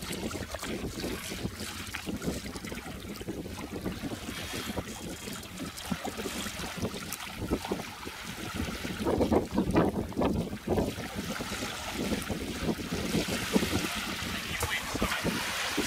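A small boat moves steadily across calm water, with a constant rush of wind and water along the hull, a low engine-like rumble underneath and faint, indistinct voices now and then.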